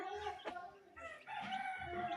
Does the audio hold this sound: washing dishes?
no